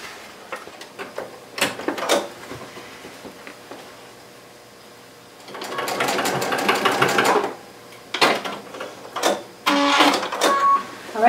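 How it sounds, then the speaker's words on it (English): A sewing machine stitches the 14-inch side of a fabric tote bag, running in short bursts and then two longer whirring runs, close and loud, with quiet handling clicks between stitches and no talking. "Now we're going to sew along the 14-inch long side of the outer bag."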